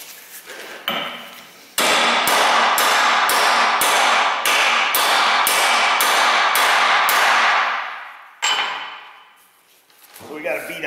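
Rusted U-joints are driven out with a big hammer: a rapid series of about a dozen loud, ringing metal blows close by, followed by a few scattered strikes, with someone talking in the background.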